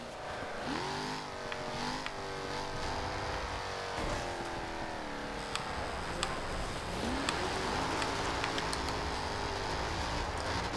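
Supercharged engine of a 2015 Jaguar F-Type R Coupe in Forza Horizon 2 revs and climbs through gears, its tone rising and falling with shifts, steady and prominent, with faint tire noise on gravel.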